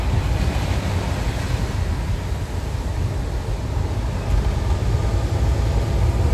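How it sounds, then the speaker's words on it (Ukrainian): Steady, dense roar of a waterfall in West Virginia, broadband and continuous throughout, with no voices. "А який водоспад гарний."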